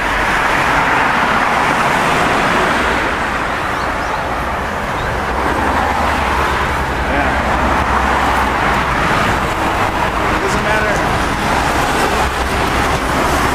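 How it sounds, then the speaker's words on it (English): Road traffic on a city road in Yongin and Suji, Korea, with a constant loud roar of passing cars along a sound wall. The noise runs throughout and briefly covers a few spoken words. "It's probably really loud right here because I got the sound wall on this side where the mic is and the cars over here"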